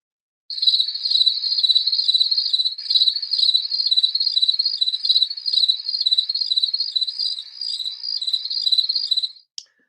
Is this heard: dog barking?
no